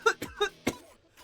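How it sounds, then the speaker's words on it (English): Several short coughs in a quick burst, a coughing fit with four sharp bursts close to the mic, then fading to quiet. "No, not the coughing fits, please."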